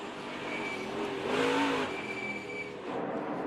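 A NASCAR pickup truck races on a dirt track at Bristol Motor Speedway, its engine revving and easing off as the driver works brakes and throttle together. The engine roars steadily close by, swells to a peak midway, then settles again.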